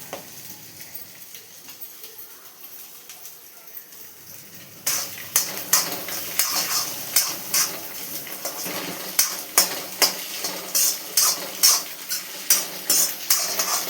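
Carrot, cabbage and green chilli fry for egg noodles. After a quiet start, a spatula scrapes and clatters rhythmically against the pan over a steady sizzle, close and fairly loud.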